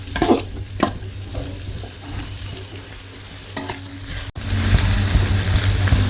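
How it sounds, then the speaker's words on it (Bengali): Onions frying in a pan until browned, a steady close sizzle with occasional stirring scrapes, cutting briefly and then returning louder and denser. "পেঁয়াজটা লাল করে ভেজে নিচ্ছি"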